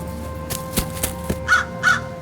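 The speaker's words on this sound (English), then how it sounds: "a reverberating cry of crows overtake the sound of brutal rainfall" Crows give several reverberating caws, sounding as a story effect over a steady background wash like heavy rainfall. The loud calls come in bursts near the middle and the end.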